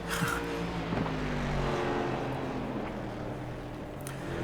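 Race cars circling the track at Barber Motorsports Park during a V-TEC 2.4 Hour Series endurance race, a steady layered engine drone at mid distance with passing cars rising and fading, no talk.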